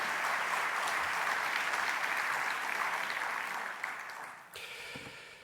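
Audience applause at a residents' and property owners' meeting in Le Touquet, a dense steady clapping from a large room that holds strong, then thins and tapers off near the end.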